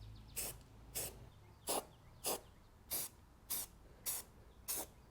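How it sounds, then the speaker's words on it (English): A spray can applying a light coat of primer to an aluminum Toro Super Recycler mower deck, nine short, evenly spaced hissing bursts close up with quiet pauses between them. "Now I'm just applying a light coat, that's it. Just enough to get things to stick."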